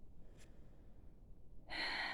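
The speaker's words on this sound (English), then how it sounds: "take a deep breath" A single deep breath is drawn in sharply near the microphone at the end, following a brief faint sniff and a stretch of quiet room tone.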